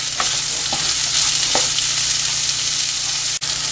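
Capsicum sautés in a pan for soya chunks manchurian, giving a continuous bright sizzle and hiss broken by a few soft stirring scrapes, close and steady with no talk.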